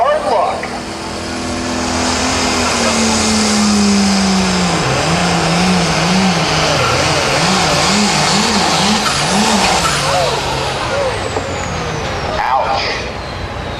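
An 8500 limited pro stock pulling tractor roars loudly down the dirt track at a Friday night pull in Mound City, Missouri. The engine note wavers rhythmically as the tires squat and bounce, and an announcer talks over it throughout.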